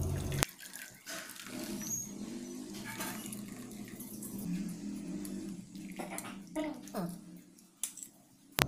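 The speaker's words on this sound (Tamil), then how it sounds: "இப்போ இதை எடுத்து நம்ம வடிகட்டிடலாம்." Boiled tea poured through a strainer into a vessel gives a steady liquid trickle and splash with small metallic clinks, close and moderately loud, with faint background noise.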